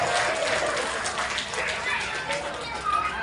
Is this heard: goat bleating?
no